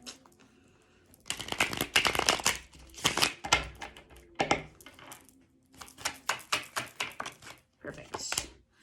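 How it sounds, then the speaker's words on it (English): A tarot deck of Chicoli cards shuffled by hand in quick bursts, crisp riffling and snapping of card edges in several close, bright clusters with brief pauses between, no talking over it. "Give it a quick shuffle."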